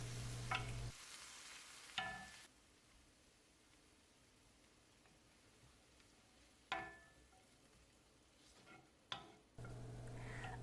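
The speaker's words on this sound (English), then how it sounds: "I'm gonna tear my pastırma in small pieces and going to saute for a minute." Torn Turkish pastırma sautés in a pan with tomatoes and peppers, giving a soft continuous sizzle broken by a few sharp clicks and scrapes of stirring.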